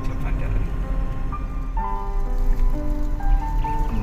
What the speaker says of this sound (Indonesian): Mendung, hujan rintik-rintik semakin mendera